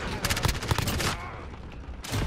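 Dragon's breath shotgun firing in Call of Duty: Modern Warfare, heard as a close burst of rapid heavy blasts that tails into rumble, with another loud shot at the end.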